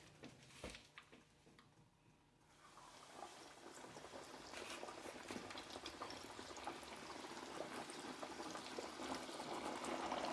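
Pork chops dredged in flour drop into hot grease and set off a steady, crackling sizzle that swells and holds, preceded by a few clicks and a brief clatter.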